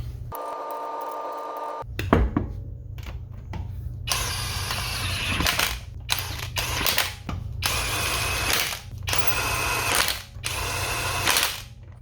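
Wheel nuts on a 2010-2014 Ford Taurus being tightened with a socket tool: a hum at first, then loud bursts of rattling, whirring and ratcheting that stop and start again several times, close up, with nobody talking.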